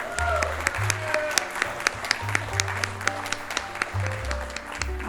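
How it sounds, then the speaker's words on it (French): An audience applauds at a diploma ceremony with steady mid-distance clapping and a few sharper individual claps. Background voices and tones sit underneath. "On va prendre le temps d'applaudir."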